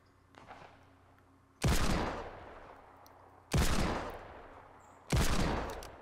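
Pistol shots in Fortnite Battle Royale, three loud separate cracks spaced about two seconds apart, each with a sharp attack and a long echoing decay, preceded by a faint softer click, with no talk.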